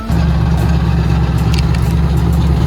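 A drift car's engine at a DriftOpen competition round in Kielce, a loud, steady droning roar held at an even pitch for the whole stretch, close and continuous with no speech.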